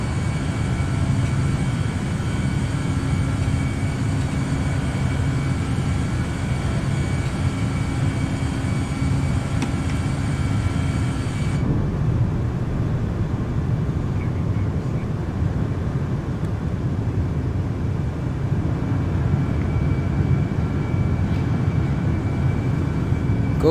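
Fenix A320 airliner in Microsoft Flight Simulator climbing out on departure, a steady loud broadband engine roar with a dense low rumble that drops in brightness partway through, no talk.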